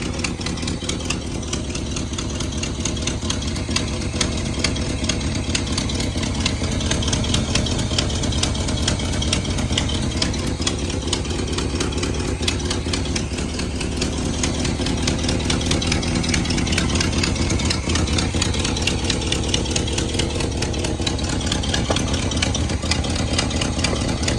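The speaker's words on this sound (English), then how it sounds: "I do want to keep it idling and wait for the thermostat to open up." A 1978 Chevrolet K30 truck engine idles steadily for a long stretch after thermostat and spark system replacement, a continuous low rumble with a faint rhythmic knock and no talking.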